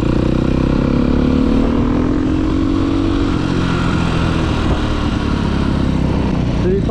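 A motorcycle engine revs loudly and close up during wheelie practice in third gear, a sustained droning roar whose pitch climbs and then holds steady, with a brief mechanical clunk near the end.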